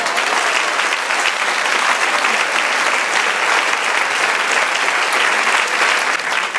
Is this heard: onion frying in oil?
no